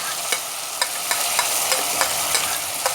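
Eggplant bharta mixture with spices is stirred in a frying pan, a bright steady sizzle punctuated by regular scraping spoon strokes about twice a second, close and loud.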